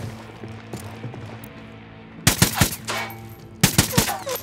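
Gunfire in the video game Ghost Recon Wildlands: two loud bursts of rapid shots, the first around the middle and the second near the end, over a low droning game soundtrack.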